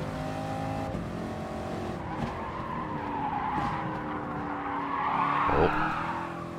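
Car tires skid through a controlled slide in Gran Turismo Sport, a sustained squealing screech over a steady engine drone that rises into a louder squeal near the end.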